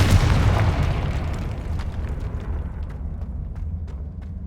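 A Confringo spell explosion from Hogwarts Legacy gameplay: one loud, broad booming burst at the start that rolls into a long rumbling decay, with faint crackles trailing behind.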